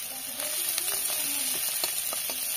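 Eggplant and potato pieces sizzle steadily in hot oil with a constant frying hiss, faint clinks and stirring scrapes over it, no talk.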